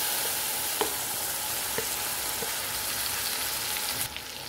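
Finely chopped tomato with turmeric frying in a pan, a steady dense sizzle with a few faint stirring clicks, close and even, no voices, easing slightly at the end.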